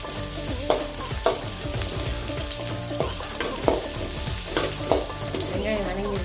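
Onions fry until golden in a pan, giving a steady close sizzle broken by regular scraping strokes as a spoon stirs them through. There is no talking.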